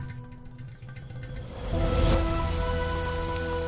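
Rain falls steadily, a soft hiss that swells noticeably louder midway and stays heavy, with faint mechanical clicks early on and no talk.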